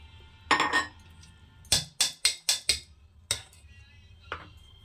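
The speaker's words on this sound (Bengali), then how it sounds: "এটাকে ভালো করে মিশিয়ে নেবো এই ফ্যাটানোটা যতটা ভালো হবে কেকটা কিন্তু ততটাই সুন্দর হবে" Biscuit cake batter with milk being mixed in a bowl, a run of five quick, sharp utensil clinks against the bowl with a few scattered taps before and after.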